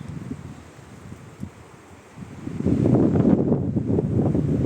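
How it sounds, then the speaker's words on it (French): Wind blows across the microphone, starting soft and swelling into a steadier, fuller rush in the second half. "Le petit vent"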